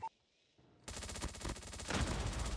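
Automatic gunfire in COD Mobile, a brief beep and pause followed by a loud, continuous burst of rapid close-range shots that keeps going to the end.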